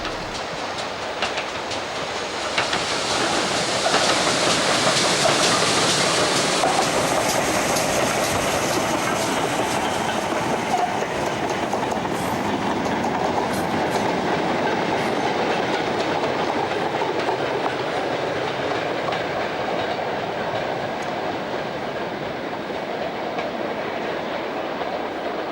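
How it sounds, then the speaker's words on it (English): A Black 5 steam locomotive followed by a returning freight train rolls past on a heritage railway at Bury, with a broad rumbling roar and rhythmic wheel clatter that builds, then carries on steadily as wagons pass. "Our Black 5 is followed by the returning freight."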